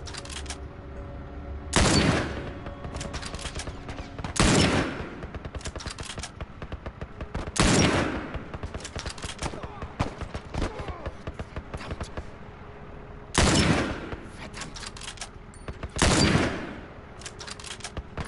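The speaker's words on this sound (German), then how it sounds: "Ja, da war ordentlich Schuss da oben" Gunfire in the video game The Last of Us, five loud heavy bursts spaced a few seconds apart over a constant crackle of lighter shots and game ambience.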